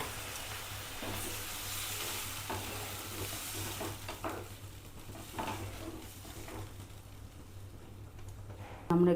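Bitter gourd and pumpkin curry sizzles softly in a pan while a spoon stirs it, with scattered scraping and clinks over a steady low hum, ending in a brief louder knock.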